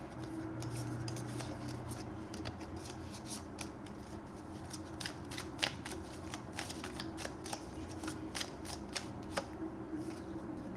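A deck of chakra cards riffles and slides in quick, soft bursts, with sharp crisp snaps of cards clustering in the second half against a faint steady background hum, close and quiet.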